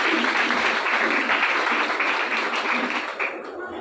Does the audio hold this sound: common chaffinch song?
no